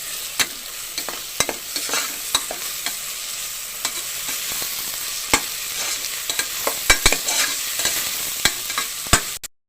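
Ginger garlic paste fries with browned onions in a pan, a steady close sizzle broken by repeated sharp scrapes and clicks of a spoon stirring through the mixture, with no talking.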